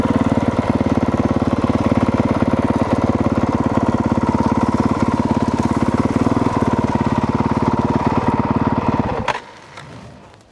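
A loud, close 2022 Honda CRF 450R dirt bike engine idles with a steady rapid buzz for about nine seconds, then is abruptly cut off and leaves faint background noise.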